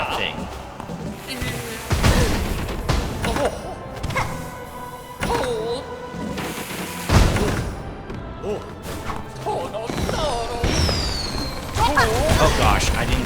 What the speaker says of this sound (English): Oh gosh, I didn't see that he was gonna leave fireworks.